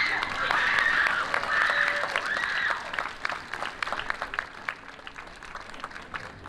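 A high school awards ceremony audience applauds warmly with whistles and cheers early on, the clapping gradually thinning out toward the end.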